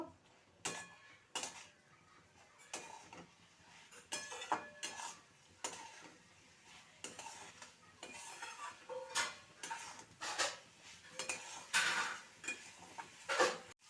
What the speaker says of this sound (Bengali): এবারে ভেজে রাখা আলু আর বরবটি দিয়ে দেবো ভালো করে মশলার সাথে কষিয়ে নেব